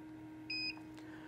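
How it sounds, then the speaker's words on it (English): A SmartOnline UPS gives a single short electronic beep, about a fifth of a second long, when its off button is held down. The tone is steady and clean over a quiet room background. "Hold it until you hear a beep"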